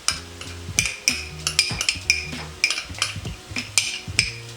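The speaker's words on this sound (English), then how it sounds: "And then I'm just going to stir it all together" A utensil stirring ginger, garlic and sauce ingredients together in a pan, with a run of sharp metallic clinks and scrapes in an uneven rhythm, close and clear, with no talking.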